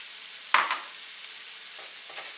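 A single sharp scrape of a utensil in a pan, followed by a lighter one, over a steady soft sizzle.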